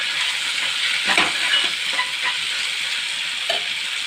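Green chilies and masala frying in a pan for a gongura dish, a loud steady hiss and sizzle with a few soft stirring scrapes on top, no speech.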